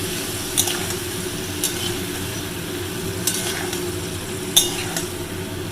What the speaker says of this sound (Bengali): লবণ হলুদ দিয়ে ভালো করে নাড়াচাড়া করে নেই